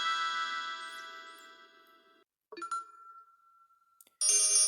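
A phone rings in the video game Dead Man's Phone: a steady electronic ringtone tone sits under game music, breaking off into a short gap before a brighter burst returns at the end.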